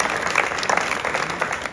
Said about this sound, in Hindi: इनके लिए भी एक बार तालियां बजा दी